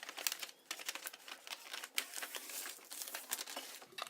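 Paper for a gift bag is folded in half by hand, making close, faint crinkling and crackling that runs on steadily with small irregular bursts.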